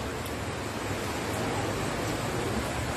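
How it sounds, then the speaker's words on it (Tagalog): A river at Hinaguan Nature Park runs strong and swollen after rain, a dense, continuous rushing of water at steady loudness with no breaks. "Medyo malakas ang alon ng ilog ngayon kasi umulan pa nga."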